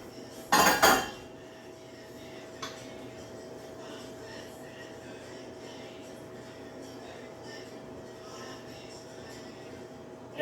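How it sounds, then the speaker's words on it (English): Greased metal muffin pans clank and clink in a burst of handling near the start, followed by a quiet kitchen room tone with a faint steady hum and one soft knock. "So now I have these muffin pans that I already greased."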